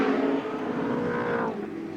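Over-three-litre touring cars, including a Camaro, racing at Amaroo Park in 1980, with loud engine roar that holds and then falls away in pitch as a car goes past, close and continuous.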